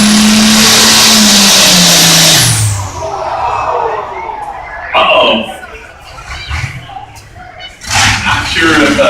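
An alcohol-fueled International 1466 tractor roars loud and close at a Troy fair tractor pull, its engine pitch sliding down before fading into crowd noise while an announcer talks over it.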